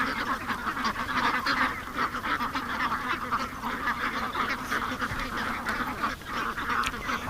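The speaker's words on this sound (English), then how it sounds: "Hello, ducks." Close, continuous quacking from a group of ducks, including a wild female, rising and falling in overlapping bursts with no voices over it.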